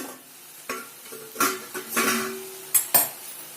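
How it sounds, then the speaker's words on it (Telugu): A frying mixture of broad beans with sesame masala is stirred in a pan, with repeated close, clanking spoon scrapes and knocks over a faint sizzle. "కలిపేసుకోండి బాగా వేగింది"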